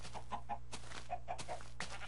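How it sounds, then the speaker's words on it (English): Chickens in the Minecraft video game cluck in short repeated bursts, several separate clucks spaced through the moment, with a low steady background hum and no talking. "Just a butt ton of freaking chickens"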